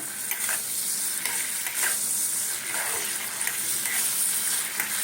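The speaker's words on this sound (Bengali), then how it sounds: "মাছটাকে এইভাবেই ভাজবো এর বেশি ভাজবো না" Prawns with potato and pointed gourd frying in an oil-filled pan, a steady close sizzle with occasional stirring scrapes running throughout.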